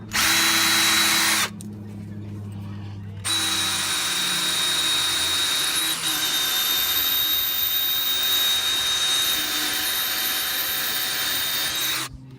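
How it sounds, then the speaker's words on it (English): A power drill whines loudly up close as it bores into brick, stopping briefly for a couple of seconds before grinding on steadily. "So I got one more hole to drill."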